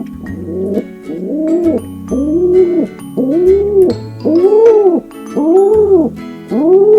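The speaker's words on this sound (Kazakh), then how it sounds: "Кептер." A pigeon coos in a repeated, rounded rolling call, about seven loud, close phrases in a steady rhythm with short pauses between, clear and alone.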